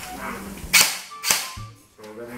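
An airsoft M4 rifle fires two sharp, loud snapping shots about half a second apart, close by, followed by a brief mechanical whir.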